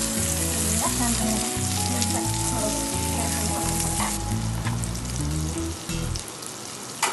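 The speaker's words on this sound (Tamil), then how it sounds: "அடுப்பை மீடியம் ஃப்ளேம்லேயே வச்சு நல்லா மொறுமொறுன்னு பொரிச்சிருங்க." Rava-dusted fish fries crisply in hot oil over a medium flame, a steady close sizzle and crackle running throughout, with faint utensil sounds and low background tones underneath.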